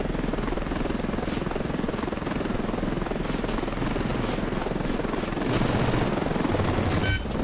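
An enemy helicopter flies through a Ravenfield battle under missile and ground fire, its steady loud rotor roar filling the scene while rapid bursts of gunfire crackle and pop over it.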